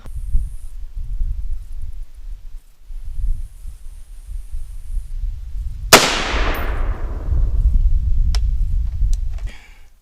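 A single loud 7.62x51 rifle shot at about six seconds, fired at a 3/4-inch plywood target with a center block behind it, with a sharp crack and a long decaying tail over low outdoor rumble and wind.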